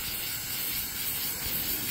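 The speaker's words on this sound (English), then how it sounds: "put a coat of spray paint" Spray paint hisses from a can onto a vinyl record outdoors in a steady, bright, continuous spray. The hiss is close and unbroken, with no talk.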